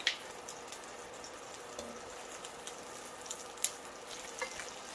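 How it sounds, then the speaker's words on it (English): Beef shank searing in an enameled cast iron skillet, a soft steady sizzle with faint crackles and a few sharp clicks of metal, no talking. "We want just some searing on the meat."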